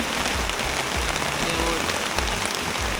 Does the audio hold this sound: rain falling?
yes